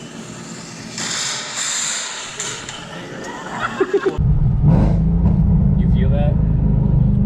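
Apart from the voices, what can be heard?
2019 Ford Mustang engine revving with aftermarket headers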